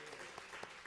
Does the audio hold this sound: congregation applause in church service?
yes